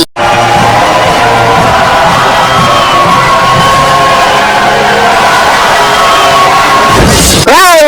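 A crowd cheers and shouts steadily to encourage a contestant in a five-kilogram weightlifting contest, a loud sustained roar that cuts off near the end with a rising electronic swoop.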